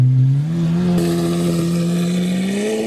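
A Lamborghini Aventador roadster revs up loudly from close by on a sunny drive, its engine rising in a steady climbing tone with a raw, harsh exhaust note. No one speaks.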